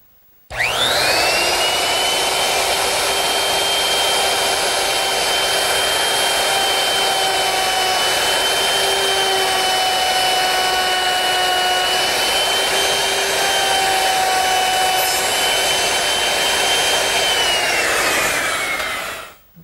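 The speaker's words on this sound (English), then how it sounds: "Now I'm going to use a OG bit, a 5/32 OG bit, which is equipped with a little ball bearing to guide it along the side of the piece." A wood router fitted with a 5/32 ogee bit guided by a ball bearing, molding wood edges: a loud, steady high whine spins up, holds for about seventeen seconds alone, then winds down.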